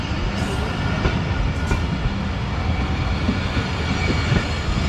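A train departing Sahiwal railway station rumbles and rattles steadily nearby, a dense continuous roar of wheels and cars with faint higher squeals.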